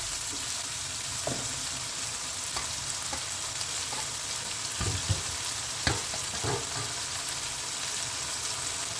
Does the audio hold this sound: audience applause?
no